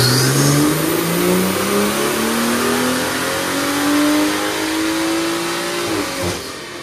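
BMW 340i (F30) with a B58 engine and Stage 2+ tune on a dyno, revving hard through a long continuous climb in pitch, loud and close, then backing off sharply near the end.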